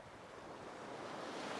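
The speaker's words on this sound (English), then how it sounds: "the waves are just coming in from all angles" Sea waves wash in at a shore with a steep shelf, breaking from all angles: a steady, broad surf hiss mixed with wind noise on the microphone, no voices.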